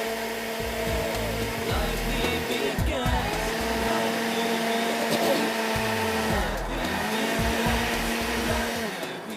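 A blender whirs through tomatoes for gravy, a loud steady motor drone with shifting pitch as the blades churn, running continuously with some speech mixed in.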